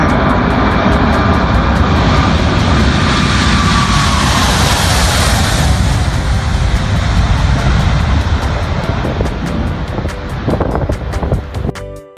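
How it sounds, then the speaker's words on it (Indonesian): An airplane passes overhead through a gray, overcast sky, its engine roar loud and sweeping across the whole clip before it fades, with wind buffeting the microphone. "tampak sebuah pesawat melintas dan memasuki awan yang berwarna gelap"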